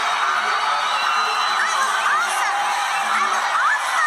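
Cartoon children cheering together, a continuous loud burst of excited shouts and high whoops from a small crowd of young voices.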